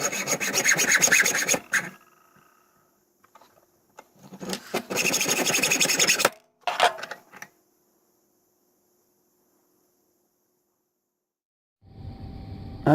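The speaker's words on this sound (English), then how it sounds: "I'm going to cut it down so that the bolt isn't quite so long sticking down inside the pen." A pen bolt cut down by hand with a saw: bursts of steady rasping strokes, a pause, then more sawing close up, followed by a long silence and a brief low scrape at the end.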